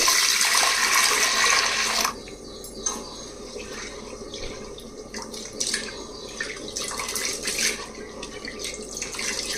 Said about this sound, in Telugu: ఈ కుక్కర్లో వేసేసి నేను శుభ్రంగా కడగాలండి రెండు మూడు సార్లు